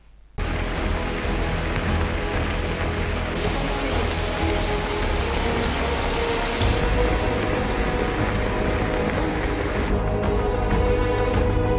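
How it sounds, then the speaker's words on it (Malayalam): Heavy rain pouring in a hilly region in Kalikavu, a dense, steady, loud roar of drops on surfaces that starts abruptly and continues unbroken, with no voices. "മലയോര മേഖലയിൽ കനത്ത മഴ തുടരുകയാണ്."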